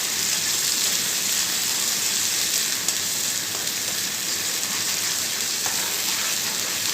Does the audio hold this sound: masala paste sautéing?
yes